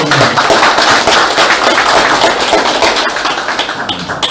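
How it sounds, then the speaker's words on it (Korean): A large crowd gives loud, dense applause at a party members' meeting in Gyeonggi Province. Close, crackling clapping fills the room continuously and tapers only slightly toward the end. "여러분, 큰 박수를 부탁드립니다."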